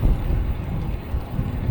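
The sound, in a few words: wind while riding a bike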